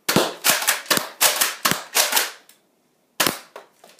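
A painted Nerf blaster styled as an AK-47 fires foam darts in a quick series of about six sharp snapping shots, a brief pause, then one more close, loud shot.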